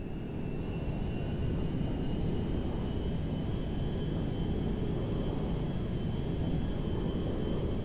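A Merryweather cargo jet in GTA 5 flies overhead, making a steady, loud, low engine rumble and roar with a faint high whine that holds evenly throughout.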